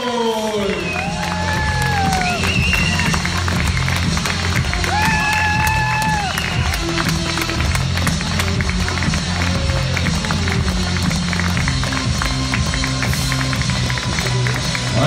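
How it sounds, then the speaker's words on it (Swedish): A handball arena crowd at a cup final cheers and applauds for Eskilstuna, a loud, continuous roar of many voices and clapping, with whistle-like tones and a pulsing low thump running under it. "vi tar en riktigt stor applåd för Eskilstuna"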